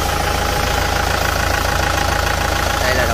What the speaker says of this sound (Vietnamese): đây là động cơ nó đây